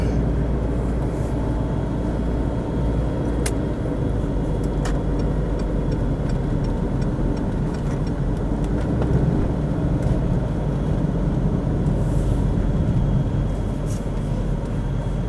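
Steady traffic noise from cars moving around a roundabout near a traffic light on a city road, a continuous close engine rumble and tyre hum with occasional sharper passing sounds, no talking.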